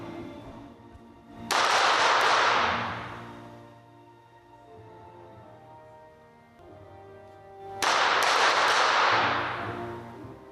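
Two sharp, loud gunshots about six seconds apart at a para shooting competition, each a sudden crack with a ringing tail over a low, steady background hum.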